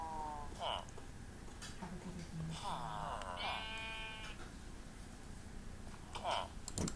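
Several sheep bleats in Minecraft rise and fall over a busy background of game sounds and a talking voice.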